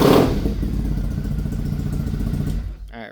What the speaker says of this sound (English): Cold idle, like 600 RPM.